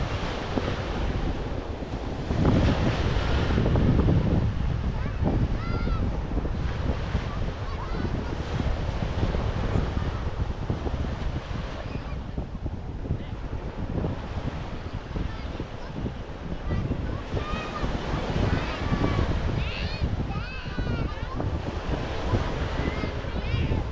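Ocean waves wash continuously onto a beach at Cabangan amid gusty wind buffeting the microphone, with faint voices of bathers mixed into the steady surf.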